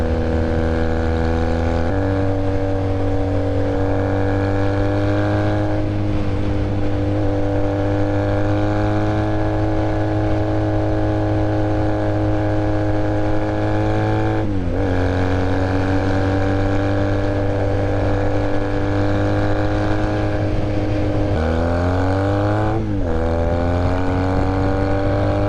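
A Honda Rebel motorcycle engine runs steadily and loudly close by, a constant low drone whose pitch dips and swells briefly a few times as the throttle shifts.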